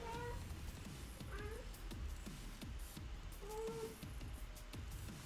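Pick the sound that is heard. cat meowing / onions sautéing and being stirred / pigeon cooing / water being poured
cat meowing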